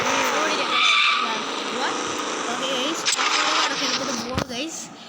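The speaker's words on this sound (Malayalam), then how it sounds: "ഫസ്റ്റ് ഇത് വണ്ടി ഫുള്ള് പറപ്പിച്ചെടുക്കാവേ" A car in a driving simulator video game is pushed to full speed, its engine whining and tires skidding and squealing continuously while someone talks over it.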